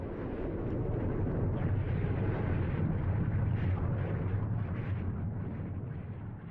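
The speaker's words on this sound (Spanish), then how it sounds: "Una explosión tan potente que provocó un cráter de 83 kilómetros cuadrados en el centro de la isla" Volcanic eruption explosion on an island, a powerful continuous roaring rumble with dense low-frequency power and crackling bursts, loud and sustained without letup.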